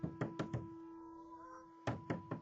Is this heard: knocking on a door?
yes